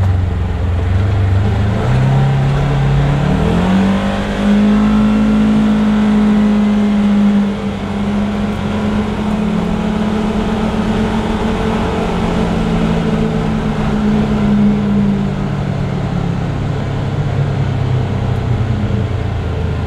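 A Polaris Ranger utility vehicle drives along steadily, its engine droning loud and close the whole time with one rise in pitch as it picks up speed, then a long sustained run, and no talking.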